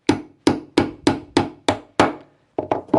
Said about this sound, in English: So I put the pin in, and if I hammer it, it will push the bushing out.